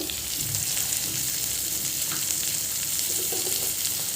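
Seeds tempering in hot oil for spinach dal, a loud, dense, continuous sizzle with faint stirring scrapes throughout.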